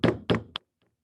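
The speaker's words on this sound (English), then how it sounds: "I heard a loud banging noise on the outside of my door." Loud banging knocks on the outside of a door, with two heavy blows followed by a sharper third, then silence.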